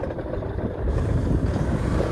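A motorcycle labours over a rough village road on Saint Martin's Island, a continuous low engine rumble mixed with buffeting wind noise that grows heavier partway through.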